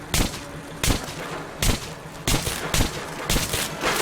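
Sharp bursts of pistol gunfire in the video game Metro Redux crack out in quick clusters, several loud shots spaced by short pauses, with no talking.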